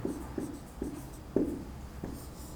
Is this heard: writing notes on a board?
yes